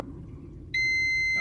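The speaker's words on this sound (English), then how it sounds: "You know what the beeping means." A kitchen oven gives a sustained electronic beep, clear and steady, starting suddenly after a quiet moment and running for nearly a second.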